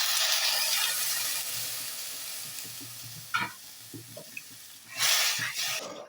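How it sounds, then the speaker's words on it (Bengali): Water pours into a pan of frying mustard-style shrimp masala, with a loud hissing splash at the start that settles into a steady sizzle, a brief clatter midway and a second loud burst of splashing and sizzling near the end. "এবার আমি জল দিয়ে দিচ্ছি।"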